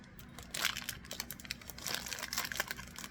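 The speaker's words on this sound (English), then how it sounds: "Sorry for the crinkling, but I'm not pausing you." Packaging crinkles and crackles close by in quick irregular bursts as it is handled and opened, fairly quiet with no talking.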